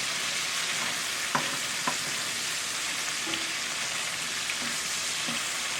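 A dark roux for New Orleans gumbo cooks in a pot with a steady, close sizzling hiss, broken by a few soft scraping ticks from stirring, with no talking.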